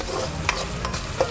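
Sambal with shrimp paste is stirred in a hot pan as prawns go in, giving a close, steady sizzle with a few quick scrapes of the spatula over a short stretch.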